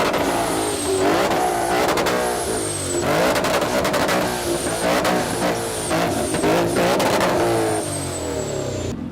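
Ferrari 6.5 litre V12 engine with an aftermarket exhaust revving hard at a supercar event, repeated high-pitched rises and falls, loud and close with a crowd murmuring around it.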